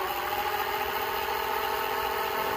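An electric bike motor runs with no load, giving a steady, close, even whirring hum with a faint rattly buzz and no change in pitch over a few seconds.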